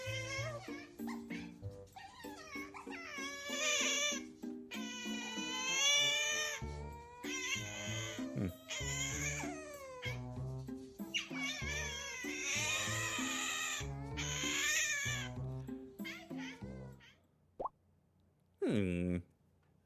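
Funny cat meme clips play in quick succession, with cats meowing and caterwauling amid dense, loud layered sounds and voices, then a brief near-silent pause before a short final burst.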